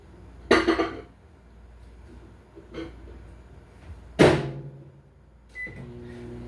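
A microwave oven in a home kitchen: plates and cutlery clink and a door thumps shut, a short electronic beep sounds, then the oven's low steady hum begins near the end.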